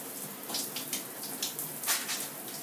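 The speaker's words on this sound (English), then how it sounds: "adding a little bit more water, and squishing to condition." Wet squishing of long curly hair being scrunched with added water and conditioner, a series of soft, close, squelchy bursts repeating in an irregular rhythm.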